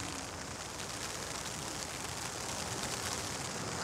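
Steady rain falls outdoors, a dense, even hiss of drops that stays constant and fairly loud throughout, with no voices or other distinct sounds.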